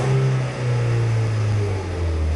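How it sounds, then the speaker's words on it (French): A car engine is revved from idle, giving a close, loud, steady drone whose pitch rises and eases slightly over a couple of seconds. "on va accélérer un petit peu pour voir le moteur et pour l'entendre aussi"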